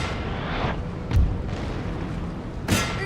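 Musket volleys crack out in a Napoleonic battle in Napoleon: Total War, two sharp bursts of gunfire with booming tails over a steady rumbling battlefield background.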